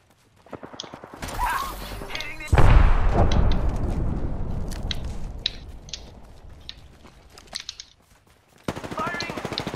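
Bursts of gunfire in the Apex Legends video game: clipped shots and a heavy booming blast with a long rumbling tail, mixed with mechanical clicks and creaks, plus fragments of game voice chatter at the start and end.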